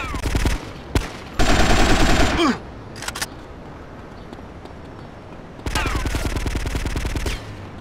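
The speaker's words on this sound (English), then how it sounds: "Sure, it's a gun." Bursts of automatic gunfire from the video game GTA Vice City Stories, loud and rapid, come in two long volleys with a few single shots between them.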